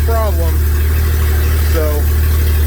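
A 1998 Jeep XJ engine idles steadily and loudly after sitting eight months, a constant low rumble filling the whole stretch, with a couple of brief squealing or whining sounds breaking in over the drone.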